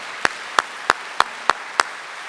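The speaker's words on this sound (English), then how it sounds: "Give them a big round of applause." Six sharp, evenly spaced claps at an Arlington ISD district event, loud, close and isolated, each one a crisp single hit rather than a full crowd round.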